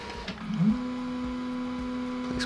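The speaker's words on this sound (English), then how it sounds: "Okay, let's go up 50. Definitely not the quietest of machines." A RatRig V-Core-3 DIY 3D printer moves its bed along the Z axis with a steady motor hum that carries a single sustained tone. The hum rises briefly near the start and then holds level and fairly loud throughout, with no talk.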